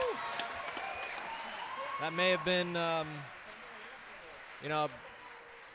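Crowd at the 2018 US Open racquetball singles semifinal applauding after a rally, a soft spread of clapping beneath a commentator talking.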